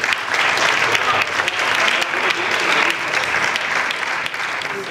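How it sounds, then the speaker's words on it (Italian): An audience at a Lennon Day 2014 event applauds loudly and steadily, a dense crowd clapping from close range for several seconds without letting up. "Un applauso per John."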